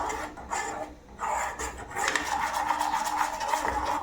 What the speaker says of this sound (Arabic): نحاولوا نحمصوا الفرينه في الزبده